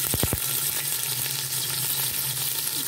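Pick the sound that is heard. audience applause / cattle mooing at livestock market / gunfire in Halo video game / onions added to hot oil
onions added to hot oil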